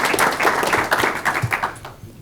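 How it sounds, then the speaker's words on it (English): A brief burst of applause from those attending a county board of education meeting, clapping loudly and close, then quickly tapering off into a few final claps. "Let's give them a round of applause again."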